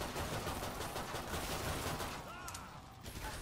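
Suppressed MP7 submachine gun fire in the video game Killing Floor 2, a dense run of muffled shots over a busy, loud game mix, continuing steadily with a brief thinning near the end.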